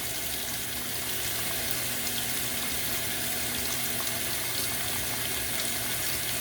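Warm water runs into a washing machine in a steady, full rush, a constant splashing flow with no pauses and no voices.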